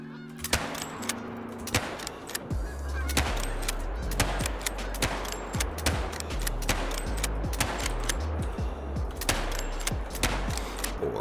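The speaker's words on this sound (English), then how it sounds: "we got geese out here already" Geese honking in the hunting video game Call of the Wild at the Hirschfelden reserve, many overlapping calls close by with sharp gunshot-like bursts scattered throughout.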